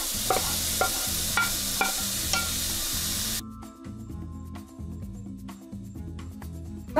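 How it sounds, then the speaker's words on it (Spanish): Tomato added to ground meat frying in a pan, with a loud steady sizzle and regular stirring scrapes up close; the sizzle drops sharply partway through. "Y ahora agregamos también nuestro tomate."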